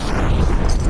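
Explosion in the VR game Fallout 4 VR during a firefight with raiders, a dense, loud, rumbling burst of noise filling the whole second.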